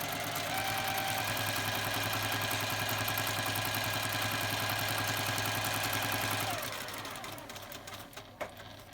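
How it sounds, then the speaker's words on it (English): A home sewing machine runs steadily, stitching along dotted lines printed on triangle papers for patchwork half-square triangles, a close continuous whir that stops near the end, followed by faint handling noises. "And then you're just going to sew along on all the dotted lines."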